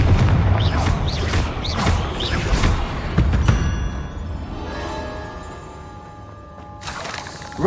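Several heavy magical explosions from the Confringo spell in Hogwarts Legacy, deep booming thuds in quick succession up close, then a fading ringing tail.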